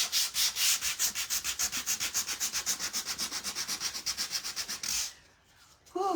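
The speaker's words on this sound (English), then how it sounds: "I'm just gonna take the sander and I'm just gonna kind of rough it up, give it that vintage look" A sander roughens a piece of wood to give it a worn vintage finish. Quick, close, rhythmic rasping strokes repeat for about five seconds, then stop, and a faint bit of handling noise follows.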